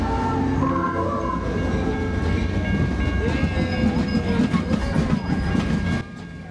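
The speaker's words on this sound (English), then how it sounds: "right on schedule, the CalTrain Holiday Train pulled into the San Bruno station." CalTrain Holiday Train, strung with more than 40,000 lights, pulling into San Bruno station: a steady loud rumble of rolling railcars with faint rail clatter and squeal, continuous until a sudden drop near the end.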